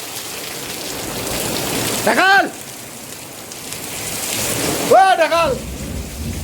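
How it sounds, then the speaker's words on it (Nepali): Heavy rain pours steadily as a broad, constant hiss, with a voice calling out twice over it. "यत्रो पानी पर्यो"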